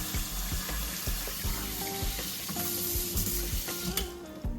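Fresh basil, thyme and scallions being rinsed under a running kitchen tap, with a continuous rush of water, uneven splashing and handling of the wet herbs close by.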